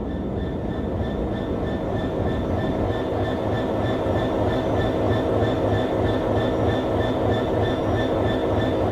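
A train rolling along the tracks, a steady loud rumble with rhythmic clickety-clack from the wheels and a faint high whine running through it.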